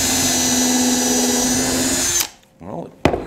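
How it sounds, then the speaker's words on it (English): A Porter Cable PCCK602L2 cordless drill bores into a piece of oak with a loud, steady high whine that cuts off abruptly, followed by a short quieter spin-up and a sharp click. "Well, it drills holes."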